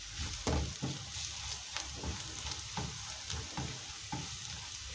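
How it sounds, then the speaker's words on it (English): Spices sizzle and fry in a pan for egg curry, a busy close crackle broken by several stirring scrapes and clinks, with no talk. "I have added my spices, so I am going to give them some seconds to cook"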